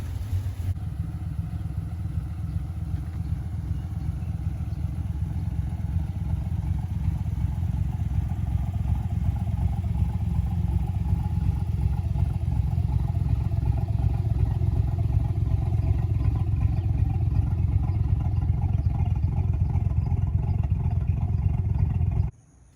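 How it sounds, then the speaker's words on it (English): 5.3 V8 truck engine fitted with a budget cam idles steadily with a lopey, rhythmic chop and light valvetrain clatter, close and even for over twenty seconds before cutting off. "The engine's super quiet, lifters, everything sounds really good"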